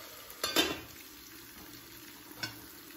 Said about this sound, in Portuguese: Pra couve, eu deixo fritar bem o alho.